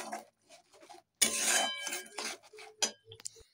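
Spoon stirring ginger garlic paste with salt, turmeric, chilli powder and a little sugar in hot oil in a kadai, giving scraping, clinking strokes and a loud sizzling rush, close up with brief pauses.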